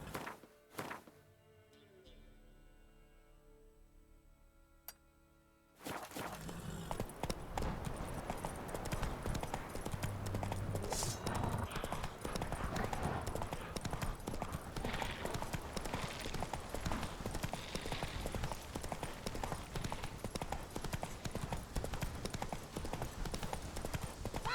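Horse hooves gallop across ground in the video game The Witcher 3, a loud, fast, continuous clip-clop rhythm that starts abruptly after a few quiet seconds with faint sounds.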